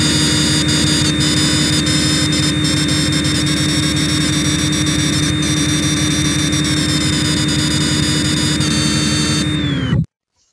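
A CNC lathe runs a G71 roughing cycle: a loud, steady mechanical drone with a high whine that dips at moments as the tool cuts, then stops abruptly at the end.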